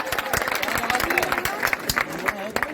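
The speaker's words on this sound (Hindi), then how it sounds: "एक बार जोरदार तालियों के साथ इजाजत" A mushaira poetry-gathering audience claps briskly, the dense claps blending with crowd murmur and voices throughout a short burst.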